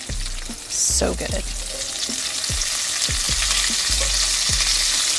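Asparagus frying in a pan in an outdoor backyard kitchen; a loud burst of sizzle as it hits the oil, then a steady spitting hiss with a series of regular scraping clacks from stirring, and a brief remark spoken over it.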